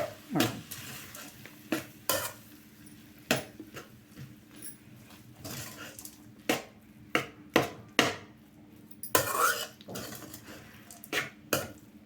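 Mango rice being stirred in a pan, a quiet sequence of sharp spoon scrapes and knocks against the pan at uneven intervals, with a faint sizzle underneath.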